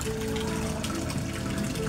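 Water trickles steadily into a cloudy koi fish pond, a constant close gurgling wash with no voices.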